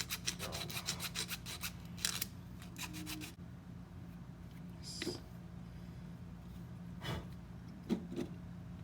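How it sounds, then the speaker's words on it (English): Sanding an ABS 3D-printed drum magazine part by hand, with a quick series of close rasping strokes at first, then scattered scrapes and rubs over a steady low hum. "you need to sand the shit out of it"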